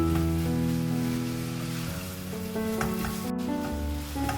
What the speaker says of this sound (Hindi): ये देखिए हमारा कीमा तकरीबन फ्राई हो रहा है